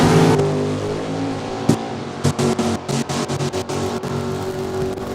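Drag racing cars, a Pontiac Firebird and an Oldsmobile, at Saskatchewan International Raceway in Saskatoon. A loud, steady engine roar is broken by a string of sharp, rhythmic pulses that sound like revving or gear shifts.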